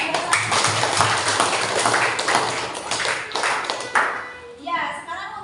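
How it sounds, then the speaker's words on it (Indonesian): A classroom of children clapping together, a busy burst of overlapping hand claps that gradually thins out, with a teacher and kids' voices mixed in. "beri tepuk tangan"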